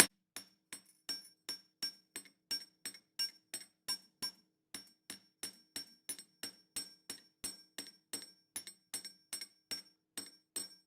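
A hammer lightly taps wire over and over to taper it for a pendant frame, making crisp metallic ticks in an even, quick rhythm, close and fairly quiet, with short silences between strikes.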